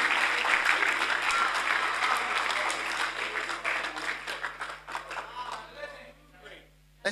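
Church congregation applauding during a Sunday service, a dense, sustained wash of clapping and crowd noise that gradually thins out and fades before a brief sound at the end.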